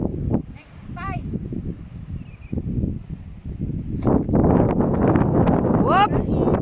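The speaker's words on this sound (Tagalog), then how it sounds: "Hangin dito." Gusty wind buffets the microphone on an exposed hillside at Sharp Peak in Sai Kung, roaring in uneven surges that build louder toward the end while a person talks and exclaims over it.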